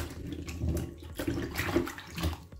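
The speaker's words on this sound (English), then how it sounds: "Rinse the yam because," Water runs and splashes as a yam is rinsed under a tap, an uneven close gurgling flow with no talk.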